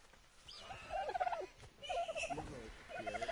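Bird call in the video game Ark: a gobbling, turkey-like warble in a few short bursts, fairly faint, with no talk over it.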